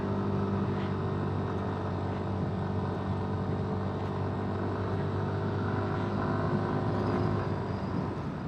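A Yamaha Lexi 155 scooter engine hums steadily while being ridden on a mountain tour, a continuous low drone with wind rush that holds a constant pitch, with no talk.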